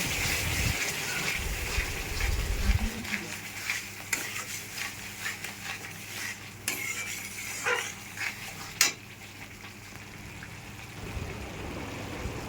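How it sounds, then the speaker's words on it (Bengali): A little water is poured into spice masala in a cooking pan, giving a brief gushing splash that settles into a low simmering hiss with faint clinks of a utensil. "একটুখানি জল দিয়ে মশলাটা ভালো করে কষিয়ে নেব।"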